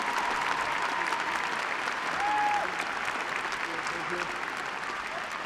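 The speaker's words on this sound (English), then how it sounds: "please give a round of applause for this year's full-time recipient" Sustained audience applause for an award recipient at a 2018 art school commencement, a dense even wash of clapping from a large crowd with a faint cheer or whistle in the middle.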